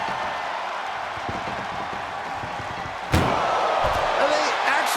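An ambulance door bangs shut during a wrestling match in an arena: one sharp, loud slam midway through, under steady excited commentary and a roaring crowd.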